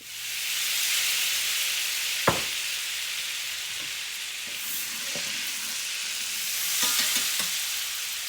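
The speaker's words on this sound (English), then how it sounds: "And then to that I'm going to add my stick of butter." A stick of butter melting and sizzling in a skillet, making a loud, steady, close frying hiss with a sharp clack early on and a few light utensil taps later.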